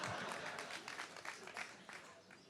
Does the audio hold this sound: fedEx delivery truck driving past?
no